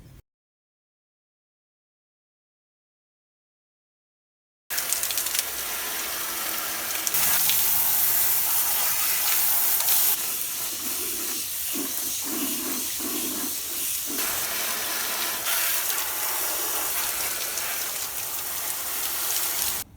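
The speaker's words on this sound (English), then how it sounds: "I'm going to keep spraying. The name of the game is keep spraying from the outside in" After several seconds of silence, a hose sprays water onto the metal fins of a window air conditioner being cleaned, a steady hiss with shifting splashy texture that continues to the end.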